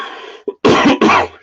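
A person with a lingering, nasty cough lets out a few harsh, loud coughs up close, a quick series of rough bursts with no speech.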